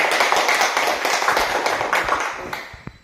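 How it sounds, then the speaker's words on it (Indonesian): A primary school class gives a short burst of quick, dense hand clapping for two student groups, fading out after about three seconds with a few scattered final claps. "Silakan tepuk tangan dulu untuk kelompok 1 dan 2"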